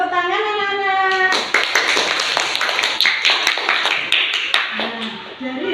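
Children in a classroom break into a burst of clapping that runs steady and fairly loud for several seconds, following a short stretch of talk.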